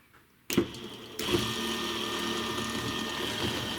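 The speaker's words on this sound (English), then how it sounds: "this is a 24-volt motor. This is only an 18-volt battery, so it's only going to run at like half speed" A 24-volt boat motor on an 18-volt battery switches on and whirs steadily at reduced speed, a close, even electric hum that steps up in strength a moment after starting and then holds.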